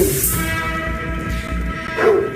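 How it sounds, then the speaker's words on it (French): A dog's bark stands in for a school bell, a couple of short yips and barks at moderate distance over a low background hum, with no talk. "C'est un chien, ça."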